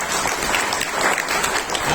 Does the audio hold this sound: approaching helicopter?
no